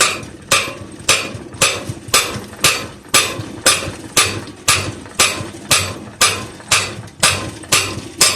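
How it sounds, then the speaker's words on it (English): A hammer lands about fourteen evenly spaced, sharp metallic taps on the crankshaft of a Kohler opposed-twin engine during disassembly, close and steady with no talking. "let's just give it a little bit of light love with a hammer and see what happens"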